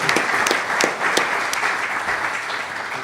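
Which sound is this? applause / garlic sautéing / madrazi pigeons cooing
applause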